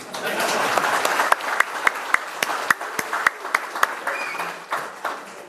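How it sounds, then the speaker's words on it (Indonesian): An audience at a political party's national working meeting claps, a dense wash of applause with several loud individual claps standing out in an uneven rhythm, then fading to scattered claps. "Kok tepuk tangannya nggak semangat dulu?"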